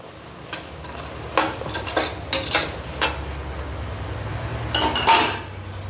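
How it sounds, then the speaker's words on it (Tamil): Rice being stirred into Kalan (mushroom) biryani in a pot, with repeated scraping, clattering strokes of a spoon against metal over a low steady sizzle, the louder bursts coming in uneven clusters close by. "அரிசி போட்டு அரிசி போட்டு நல்லா கலந்துக்கலாம்"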